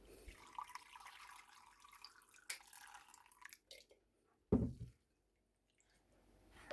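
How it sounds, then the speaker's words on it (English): Steeped herbal remedy liquid poured through a sieve, giving soft trickling and dripping that ends in one brief louder splash, followed by near silence. "I'm now going to sieve it."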